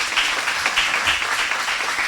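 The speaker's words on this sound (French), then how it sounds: "sur vos applaudissements, s'il vous plaît" An audience at a French school quiz contest applauds a jury member, a physics teacher. The clapping is steady and moderately loud and lasts about two seconds with no talking over it.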